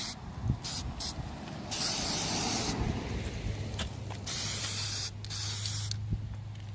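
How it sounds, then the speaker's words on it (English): Bursts of DEI high-temperature aerosol paint hissing close up, several sprays of about a second or two separated by short pauses, with a low hum underneath. "so that's the second coat of DEI high temp spray"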